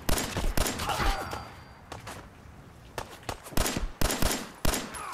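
Rapid bursts of gunfire and sharp blasts from grenade explosions in Fallout 4, clustered in loud volleys with brief lulls between them, close and punchy.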